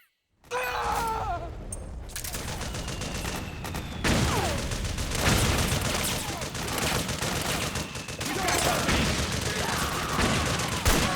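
Sniper rifle fire from the video game Metal Gear Solid 4, with loud repeated gunshots and sustained bursts of battle noise that run through most of the stretch with little pause.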